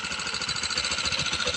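Engine of a TMX 125 motorcycle with a faulty regulator, running in a steady rough mechanical chug at close range with no voices over it.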